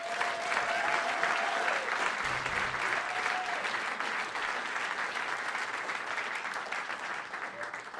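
An audience at a live 2019 jazz concert applauds to welcome the drummer, a dense, steady wash of clapping throughout with a few brief sustained tones ringing over it.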